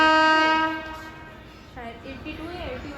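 The Mandor Superfast train from Jodhpur to Delhi Junction sounds a loud harmonic horn blast, then a second wavering horn note as it passes, with rail noise underneath.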